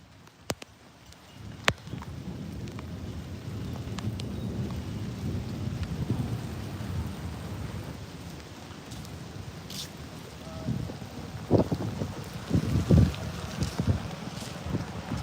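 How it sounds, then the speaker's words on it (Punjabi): Heavy rain and strong wind in Patiala district, Punjab, a continuous close roar with rumbling thunder and a few sharp cracks, getting louder toward the end, with no talking. "ਸਾਡੇ ਜ਼ਿਲ੍ਹੇ ਪਟਿਆਲੇ ਦੇ ਵਿੱਚ ਬਹੁਤ ਜ਼ਿਆਦਾ ਹਵਾਵਾਂ ਤੇ ਵਾਰਸ਼ ਹੋ ਰਹੀ ਆ"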